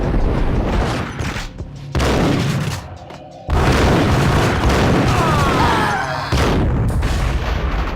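Gunfire and explosions in the Max Payne video game, a loud sustained barrage of booming blasts and rapid shots that pauses briefly twice before resuming.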